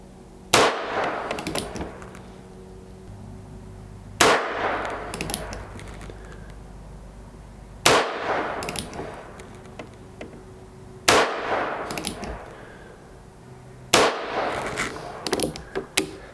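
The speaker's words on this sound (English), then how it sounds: "this is a very loud gun because there is really nothing there to eat up any of that noise" Five loud revolver gunshots, spaced a few seconds apart, each a sharp crack followed by a ringing echo decay.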